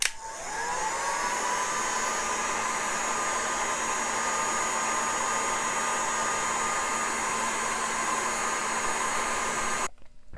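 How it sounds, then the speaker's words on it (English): A heat gun or hair dryer blowing hot air onto a clamped Buck knife sheath, a loud steady whooshing drone with a faint whine that runs unbroken for about ten seconds before cutting off. "I'm going to put just a little more heat on it while the clamps are in place."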